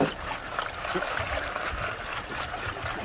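A gold pan is lifted out of a mountain stream, and water rushes and trickles off it in a close, splashy wash over the running current.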